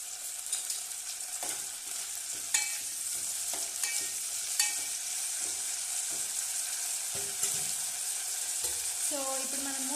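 Gongura leaves frying in oil in a pan give a steady close sizzle with crackles, stirring scrapes and clinks of a spoon against the pan throughout.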